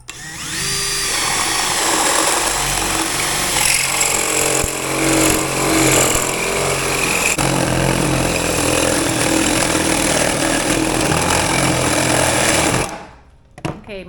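An old 3/4-inch spade drill bores a hole through a stovepipe end cap, a loud, steady grinding whine with rough chatter that runs continuously for about thirteen seconds before cutting off abruptly.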